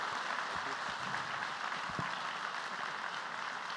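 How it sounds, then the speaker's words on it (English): An audience at a speaker event applauds the guest, a faint, continuous wash of distant clapping with no speech over it. "a big round of applause for Leander Paes"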